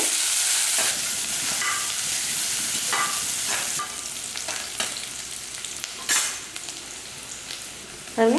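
Long-sliced onions frying in a chicken gravy pan, a loud hissing sizzle that starts strong and settles, with a few soft stirring scrapes near the end, close and without speech.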